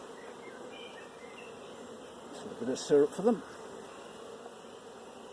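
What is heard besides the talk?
honeybees buzzing at the hive entrance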